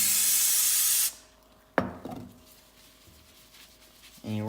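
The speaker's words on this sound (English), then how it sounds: "Spray it all around the filter." Cleaner sprayed around a dirt bike air filter gives a loud, steady aerosol hiss for about a second, then cuts off, followed by a sharp knock and faint rustling handling noises.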